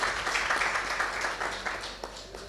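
An audience at a literary lifetime achievement award event applauds with soft, dense, even clapping for a couple of seconds, heard from some distance.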